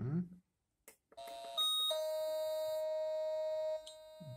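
A metal detector's multitone audio signal beeps, stepping through a couple of short pitches before holding one steady high tone for about two seconds.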